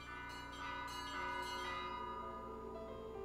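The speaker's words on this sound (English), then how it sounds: "you put your right foot on the one big bell, your left foot on the other big bell" Several large church-style bells ring together, struck by hand and foot, in a dense, sustained, overlapping clang with lingering resonance and no talk over it.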